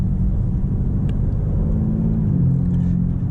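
A BMW M4 CSL engine drones steadily at low revs while the car shifts for itself in automatic mode, a smooth continuous rumble with a slight pitch change partway through.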